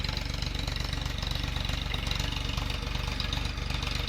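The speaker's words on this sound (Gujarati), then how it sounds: "આમાં રોટાવેટર ચાલુ કરેલું છે" A 50 hp tractor runs a rotavator in a field, its engine chugging in a fast, even throb that stays loud and close the whole time, with no speech.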